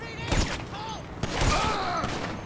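Gunfire in GTA V Online: two sharp bursts of shots about a second apart, loud and close, over ongoing game sounds and a voice.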